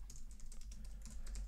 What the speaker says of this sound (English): We'll go into this and type a good name for it.